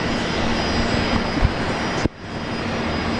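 A Jetstar airliner from Bangkok roars steadily at Brisbane Airport, a broad continuous engine rush that cuts off sharply near the end.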